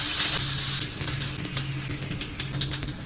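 Squid frying in a home kitchen pan, a close, continuous crackling sizzle with scattered sharp pops throughout.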